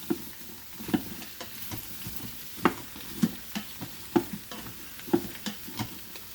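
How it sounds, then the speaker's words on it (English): Ingredients for a chicken broth sautéing in a pan, with a low continuous sizzle and a steady series of sharp stirring taps and scrapes against the pan, close and moderately loud. "saute that all around"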